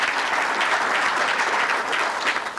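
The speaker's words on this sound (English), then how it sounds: "Give him a round of applause." A crowd claps steadily and fairly loudly, a dense even patter of many hands that holds without letup.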